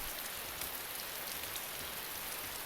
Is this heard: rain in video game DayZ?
yes